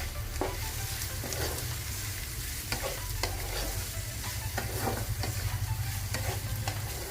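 Onions and green chillies fry in hot oil for a fibre-rich samosa filling, a steady loud sizzle broken by regular scraping strokes of a spatula stirring the pan.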